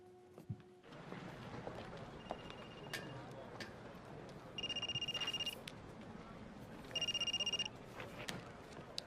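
A telephone rings twice in a coffee shop, each ring a bright electronic trill about a second long, standing out over a steady murmur of room noise.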